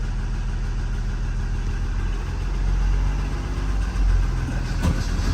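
A school bus engine idles steadily at close range while its air brake system builds pressure, a low, even rumble that holds for several seconds and swells slightly near the end.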